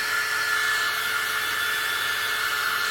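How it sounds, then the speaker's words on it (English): Hair dryer on its cool setting blowing steadily over a wig cap laid on the head, a constant close, loud airy whoosh with no break and no voices. "I'm just drying it with the blow dryer on cool"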